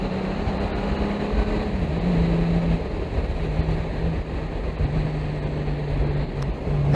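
A Honda Gold Wing motorcycle cruising on the road, its engine a steady low drone mixed with constant wind rush, continuous and fairly loud with slight shifts in pitch.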